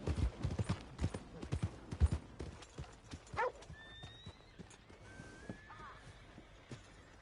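A horse in Red Dead Redemption 2 clip-clops with quick rhythmic hoof steps, then gives a clear drawn-out neigh, fairly quiet with light ambient background.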